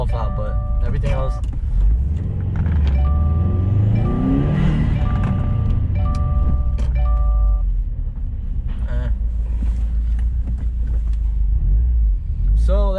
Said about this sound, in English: The actual intake itself, it's not that fucking loud.